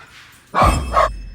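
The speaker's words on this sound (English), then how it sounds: "That was my dog." A pet dog indoors gives two sharp barks close by, a loud first bark followed quickly by a slightly softer second one.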